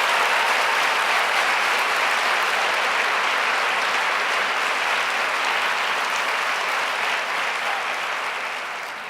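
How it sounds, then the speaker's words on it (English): Audience applause at a global women's summit, a dense, loud wash of clapping that stays full and sustained throughout before easing slightly at the very end. "Please join me now in giving them a big round of applause."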